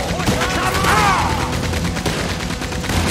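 Rapid gunfire erupts in a Red Dead Redemption 2 shootout, loud overlapping shots dense with other game noise throughout.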